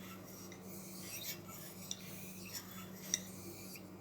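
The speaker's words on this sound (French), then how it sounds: "le dos de la lame ne quitte même pas la pierre" Knife blade sharpened on a Japanese whetstone, faint repeated scraping strokes in a soft rhythm, quiet and close with no talk.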